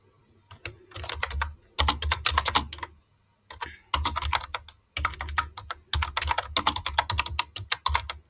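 Fingers type on a computer keyboard nearby in bursts of rapid, crisp key clicks, broken by brief pauses.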